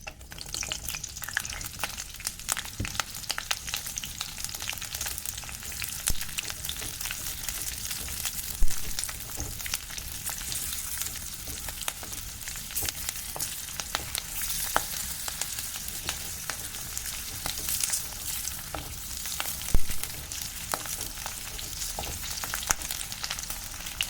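Chillies fry in a pan for green tomato chutney, a continuous crackling sizzle with sharp spatters and scraping stirs throughout.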